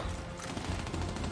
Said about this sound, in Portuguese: Tiroteio pegando.